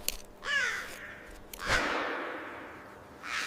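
Crow cawing in a few harsh, separate calls spaced over a couple of seconds, fairly clear and moderately close, with no talking.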